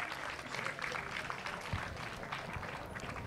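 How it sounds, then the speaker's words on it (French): Applause from the audience at a school flag-raising ceremony, a soft, steady patter of many hands heard from a distance, low in level and fading toward the end. "Applaudissez Mouchambaï, s'il vous plaît."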